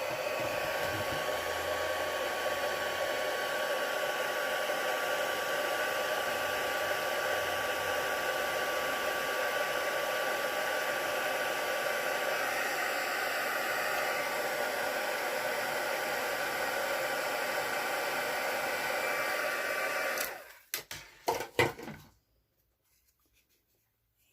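Heat tool heat-setting embossing on a Stampin' Up! rose birthday card, a steady loud blowing whoosh running for about twenty seconds and then cutting off with a few clicks before silence.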